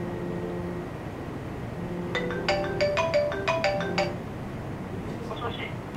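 A phone ringtone plays through a SoftBank Music Piece wireless speaker for an incoming call: a bright, chiming melodic pattern of repeated notes lasting about two seconds over a quiet background.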